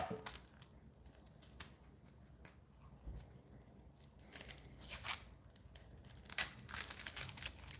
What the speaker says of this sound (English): Cut up an onion.